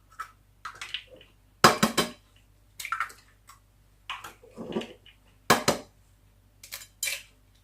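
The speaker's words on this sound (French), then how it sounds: "Je vais casser 3 œufs." Three eggs cracked one after another against a hard edge, sharp close taps and shell crunches in separate bursts, with small knocks of bowl and shell between them in a quiet kitchen.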